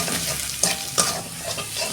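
Spices with coriander powder, turmeric, salt and tomato sizzle steadily in a pan, with a couple of sharp scraping stirs cutting through the continuous frying hiss.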